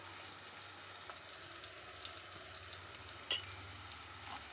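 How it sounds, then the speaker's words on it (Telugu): Coriander powder and chopped onions fry in hot oil for a potato and brinjal curry, giving a soft, steady sizzle with faint stirring scrapes and one brief sharp clink near the end. "ఇట్లా ధనియాల పొడి మంచిగా నూనెలో ఉల్లిగడ్డలతో పాటు ఉడుకుతుంది."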